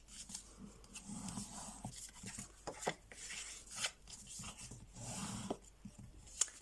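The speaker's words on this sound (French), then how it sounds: "je vais pouvoir marquer mes plis avec mon plioir" A bone folder creases paper folds with soft, close rubbing and scraping strokes, broken by a few light taps and sharper clicks, and no voices.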